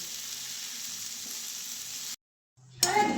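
Okra cooking uncovered in a pan gives a steady, fairly quiet sizzle for about two seconds, then cuts to silence before a louder burst of sizzling and clatter returns.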